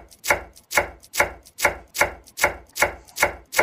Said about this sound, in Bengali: এই দেখো আমার পেঁয়াজ কুচানো হয়ে গেছে